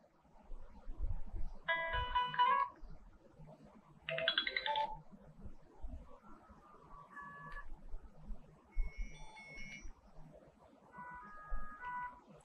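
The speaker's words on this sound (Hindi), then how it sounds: "अलार्म के साथ 5 रिंगटोन डाली गई हैं" Several short electronic alarm ringtone melodies from a Magic E5 feature phone play one after another, faint and tinny, separated by brief pauses over a quiet background hiss.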